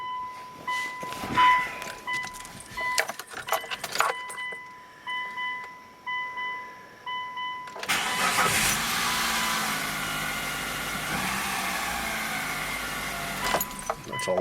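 A 2003 Mitsubishi Galant 2.4 L engine, just fitted with a new timing belt, is started: clicks, chimes and footsteps at first, then the engine catches abruptly and settles into a steady, loud idle hum.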